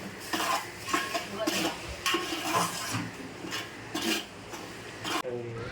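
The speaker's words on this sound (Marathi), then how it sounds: "आता हा रवा व्यवस्थित तुपामध्ये पहिले भाजून घेणार आहे" Semolina is roasted in a generous amount of ghee for prasad sheera, with a spoon repeatedly scraping and stirring against the pan in a steady rhythm over a soft sizzle, close and moderately loud.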